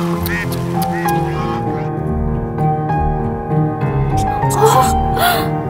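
A human voice imitates a duck, giving a run of nasal, wavering quacks up close over a loud, dense film-soundtrack bed, with gasping, whimpering vocal sounds mixed in.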